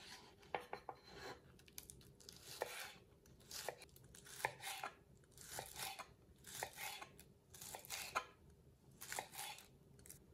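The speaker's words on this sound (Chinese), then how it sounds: "用熟菜板切点葱花" A knife chops scallions on a cutting board in quick, irregular clusters of light taps, close but fairly quiet.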